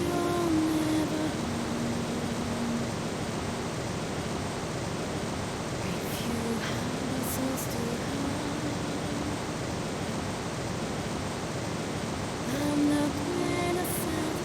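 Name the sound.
waterfall in the video game Wizardry: Tale of the Forsaken Land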